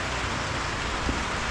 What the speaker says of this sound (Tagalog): Palakas na palakas yung ulan.